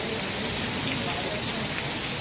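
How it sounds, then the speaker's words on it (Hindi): Heavy rain pours steadily in cold hill weather at Nainital, a dense, continuous hiss close by that stays loud and unbroken throughout. "इतनी तेज़ बारिश शुरू हो गई।"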